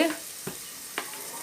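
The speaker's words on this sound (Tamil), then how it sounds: "இப்போ வெங்காயம் பச்சை மிளகா பூண்டெல்லாம் கொஞ்சம் வதங்கட்டும்" Onions, green chilies and garlic with cumin sautéing in a pan for banana stem moong dal: a soft, steady sizzle broken by two quick scrapes of stirring.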